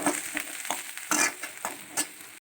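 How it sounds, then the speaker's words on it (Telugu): Chopped onion is mixed by hand into a cabbage manchuria mixture, producing about six close, rhythmic squelching and rustling strokes before abrupt silence. "1 కప్పు తరిగిన ఉల్లిపాయను వేసుకొని కలుపుకోవాలి"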